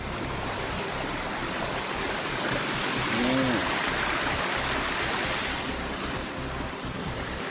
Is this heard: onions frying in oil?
no